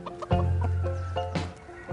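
Chickens in a hen house give a few short clucks, then a louder drawn-out call close by, with scattered softer clucking around it.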